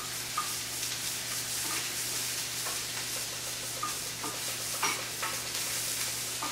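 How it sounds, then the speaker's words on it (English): Garlic, fresh rosemary and shallots sizzle in a skillet while a utensil stirs and scrapes through them, a steady close frying hiss broken by soft scraping strokes. "Stir that all together in the skillet."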